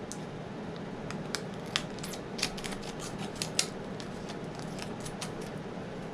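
Scissors snip through thin vinyl being trimmed on a tumbler wrap, a series of crisp, close cuts scattered over a quiet background hiss, with no talk.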